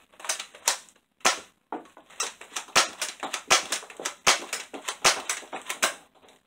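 A BOOMco Halo Brute Spiker toy blaster fires at a range, giving a quick series of sharp, close snapping shots with mechanical clicks between them, about a dozen in all.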